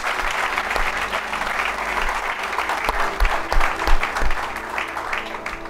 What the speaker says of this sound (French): est-ce qu'on peut acclamer pour les parents?